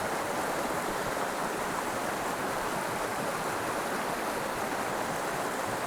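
Steady, full-band rush of white water tumbling down a small trout stream, loud and close, constant for the whole stretch with no voices over it.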